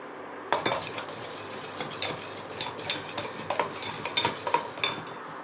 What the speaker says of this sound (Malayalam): നമുക്കിതിനെ ഒന്ന് നന്നായിട്ട് മിക്സ് ചെയ്ത് കൊടുക്കാം.